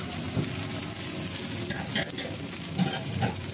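Vegetable snacks fry in oil with a constant close hiss and crackle of sizzling, broken by occasional soft stirring knocks and bubbling pops.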